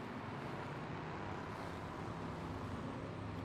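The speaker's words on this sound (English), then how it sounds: "As you can hear the roar of all the cars come round the Parabolica down into this shortish straight to the line" GT3 race cars in a sim racing game at Monza, coming round the Parabolica onto the short straight: a dense, continuous engine roar and road rumble, steady and loud throughout with no talk.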